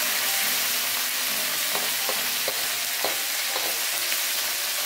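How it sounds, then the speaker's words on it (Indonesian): Salted fish or anchovies frying in hot cooking oil, a dense steady sizzle with a few soft stirring clicks, close and loud with no talk. "kita panaskan minyak goreng ya Bunda secukupnya, dan kita goreng ikan asin atau terinya"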